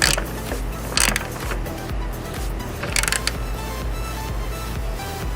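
A ratchet or wrench clicks and grinds close by while a Barricade tailgate assist is tightened on a 2004-2014 Ford F150, with a low rumble underneath and a few louder bursts of ratcheting.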